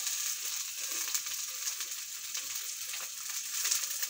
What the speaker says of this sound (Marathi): तर इकडे थोडा तेल घातलेला आहे हलका, ज्याच्यात आपले व्हेजिटेबल हलके शिजले पाहिजेत, त्यासाठी पत्ता गोबी, शिमला मिरची